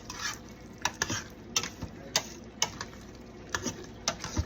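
A spoon stirs homemade chicken noodle soup with pasta and vegetables in a pot, making quiet, repeated clinks and scrapes against the metal at an uneven rhythm.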